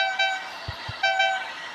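A train horn in a train video game sounds twice with a short gap, over a low rumbling background, fairly clear and close.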